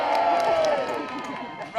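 An outdoor crowd at a side-saddle riding display cheers and whoops, a steady dense roar of voices holding at close range throughout.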